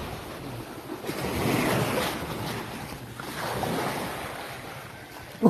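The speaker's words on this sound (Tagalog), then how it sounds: "Tingnan yung dagat to." Surf rolling onto a sandy beach, with two broad swells rising and falling at a slow rhythm under gusty wind buffeting the microphone, fairly close and moderately loud.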